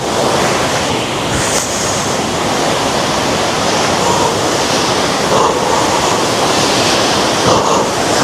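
A mountain waterfall roars in a constant, loud, full-bodied rush of falling water, heard up close with faint wind buffeting and no voices.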